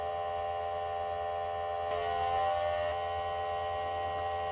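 ANCEL S2000 automotive EVAP smoke machine running, used as a vacuum leak detector, giving a steady electric hum and buzz that swells slightly midway as more smoke is pumped.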